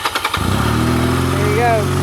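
A 1985 Honda Rebel CMX250C motorcycle with the choke on cranks with a few quick starter chugs and then fires into a loud, steady engine hum nearby, with a voice present.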